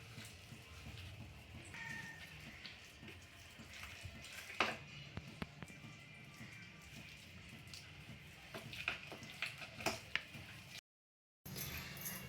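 Nalugu paste stirred with a little water gives faint wet squishing and soft scraping, with scattered clicks and taps in a quiet room and a brief dropout near the end.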